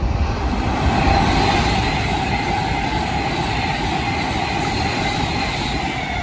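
A Class 390 electric train, unit 390-157 in Commonwealth Games Express livery, passes close by on the London Euston to Birmingham New Street line. Its steady rumbling roar stays loud and continuous, with no talk over it.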